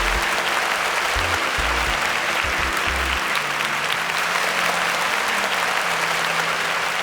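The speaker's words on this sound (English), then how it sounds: "Can we give IntersWitch a round of applause for that?" A studio audience at a televised student competition claps loudly, producing dense, continuous applause that holds steady from start to finish with no talking over it.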